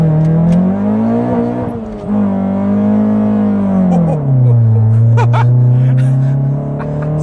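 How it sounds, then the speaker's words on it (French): A Honda Civic Ferio engine revs hard and loud as the car accelerates, its strong droning tone rising, dipping and climbing again over about seven seconds, with faint voices in the background. "Ça patine assez fort quand même, hein."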